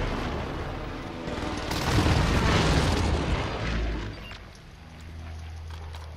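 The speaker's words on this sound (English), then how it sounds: "Enemy precision airstrike. Stay alert. This is gonna kill us." Heavy booms and rumbling blasts from an enemy precision airstrike in a multiplayer battle royale shooter, swelling to a loud peak midway through, then fading into a low steady rumble.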